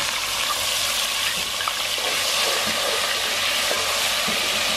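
Green chili, coriander and mint sizzle in a pot of hot cumin, cloves and cinnamon for Hyderabadi daliya. A loud, continuous frying hiss runs alone throughout.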